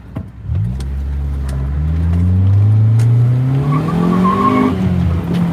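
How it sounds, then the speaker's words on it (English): A 2003 Honda Element's engine revs up close by, a rising tonal drone that climbs steadily in pitch as the car accelerates, loud and alone. "this is a 2003 Honda Element."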